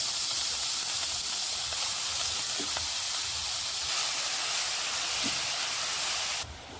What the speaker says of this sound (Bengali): এখন গ্রেট করা গাজরগুলো ঘি একটু ভেজে নেব।